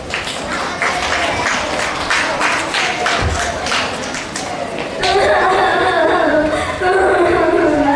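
Audience at a primary school fifth-grade project presentation contest bursts into sustained applause, a dense wash of clapping that grows louder partway through, with chatter and an announcer's voice beneath.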